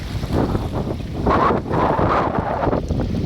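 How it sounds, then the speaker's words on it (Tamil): A constant heavy roar of water overflowing the brimming Thoppaiyaru dam at Thoppur, close and loud, with rough wind noise battering the microphone throughout. "தொப்பூர் டேமில் ஃபுல்லாகவே தண்ணி வழிஞ்சு வருது"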